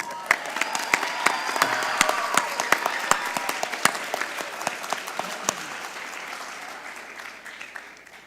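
Audience applause fills a hall at a public debate on Bad Bunny and Puerto Rican language, with sharp individual claps over a dense, steady wash that gradually thins and fades toward the end.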